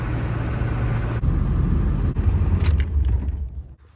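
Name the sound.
Honda CRF 50 dirt bike engine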